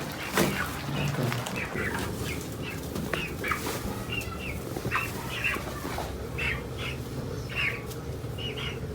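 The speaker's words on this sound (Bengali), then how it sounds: "এই হলো আমার সেই ব্রাহ্মা মুরগি" Several Brahma chickens cluck and squawk in short bursts over a steady, noisy background, with occasional wing flaps nearby.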